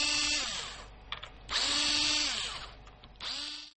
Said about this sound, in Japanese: 時間もないので電動ドライバーを使います。